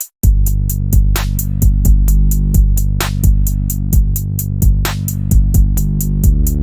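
A TunePad-programmed music beat with steady punchy drum hits and a sustained low bass bed, building and then dropping fully into the groove, loud and continuous with no voices.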